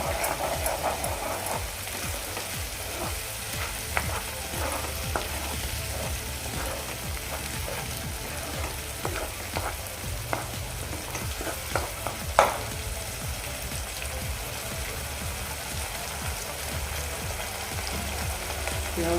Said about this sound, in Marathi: टॅमॅटोची पेस्टसुद्धा आपल्याला व्यवस्थित परतून घ्यायची आहे